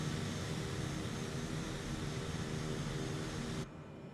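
Dense, steady airplane engine roar inside the Airwego flight simulator during a group flight event over Chernobyl. It is constant broadband drone that thins abruptly near the end, with no talking.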